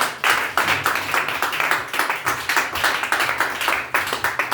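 A church congregation claps in a steady fast rhythm acclaiming Jesus Christ, many hands together filling the room loudly and evenly, with little talk over it.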